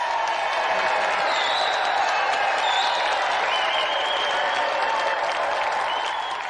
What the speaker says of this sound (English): Another round of applause for Marlon Rose!